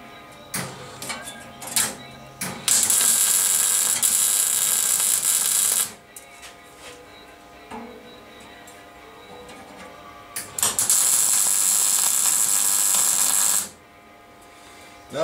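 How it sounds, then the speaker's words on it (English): Welding on metal brackets comes through as two sustained bursts of bright crackling hiss, each about three seconds long. Quieter clicks and handling noises fill the gaps between them. "And it's back to welding."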